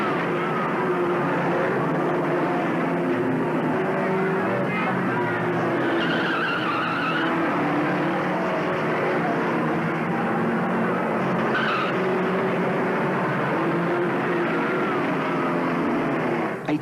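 Banger racing cars skid and slide around a track, a steady loud roar of engines and scrabbling tyres lasting throughout, with brief higher squeals rising now and then.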